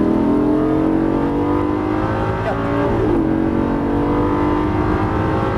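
A Lamborghini Gallardo with a 530 hp engine accelerates hard on a track, a loud sustained engine roar that climbs, dips at a gear change, then pulls again. A voice speaks a single word briefly.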